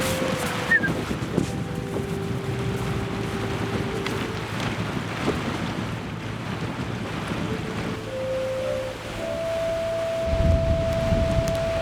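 Wind gusts steadily past a stand of old Scots pines in winter, a continuous broad rushing with buffeting on the microphone, close and fairly loud, with a faint sustained hum from something in the distance and no talking.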